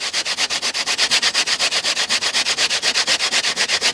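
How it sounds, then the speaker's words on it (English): A coconut being scraped on a coconut grater in quick, even rasping strokes, roughly six per second, loud and close with no talk. "We'll kind of get the coconut grater, you know, quick and fast."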